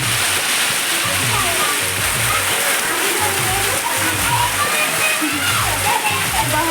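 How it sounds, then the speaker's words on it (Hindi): Heavy rain pours down in a dense, steady hiss with splashing water, and voices talk faintly beneath it. "बहुत ज़्यादा ना पानी गिरा थे"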